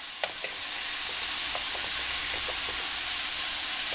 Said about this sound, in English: Sear on these, and I'll show you what I mean. You see that?